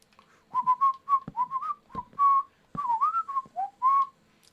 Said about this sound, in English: I think I can whistle nice, and that was a bad whistle.